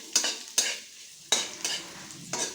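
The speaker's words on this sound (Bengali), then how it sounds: "দেখুন করলাটা লাল লাল করে ভাজা হয়ে গেছে" Bitter gourd frying in oil for shukto, with a steady sizzle broken by four sharp scraping stirs of a spatula against the pan, close and clear, with no talking.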